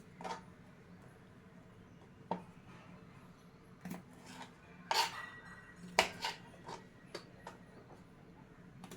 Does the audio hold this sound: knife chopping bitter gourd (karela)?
yes